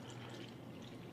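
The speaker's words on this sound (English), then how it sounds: "Watch what happens when I go to pour again." Water is poured onto a tea bag in a cup, a short, soft steady trickle of liquid heard up close without talk.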